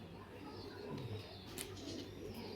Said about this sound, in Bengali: সুপার কোয়ালিটি কবুতর ভাই